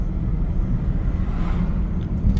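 A car, a Honda Fit or Toyota Vitz, drives home from work, heard from inside as a constant low road and engine rumble with no speech.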